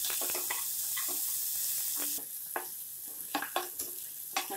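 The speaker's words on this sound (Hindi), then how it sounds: "हमें प्याज अदरक को चलाते हुए भूनना है।" Chopped onion, ginger and green chili stir-fried over high flame in a pan, a steady sizzle broken by repeated scraping strokes of a spatula, close and alone.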